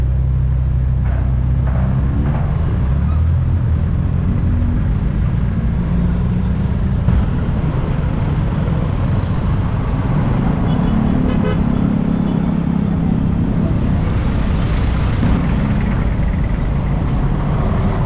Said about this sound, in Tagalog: Hindi na nawawala traffic dito eh.